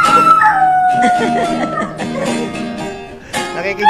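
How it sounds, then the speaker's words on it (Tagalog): Dog howling in a drawn-out, wavering, song-like way, a loud gliding howl at the start followed by yips and whines, with other noise around it. "Kumakantay aso."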